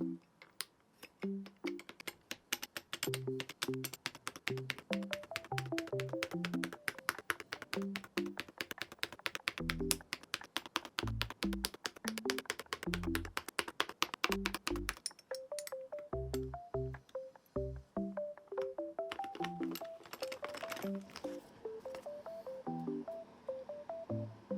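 Heavy gold full metal keycaps being pressed onto a keyboard and typed on, rapid sharp metallic clicks and taps in a dense steady rhythm, with faint music playing underneath.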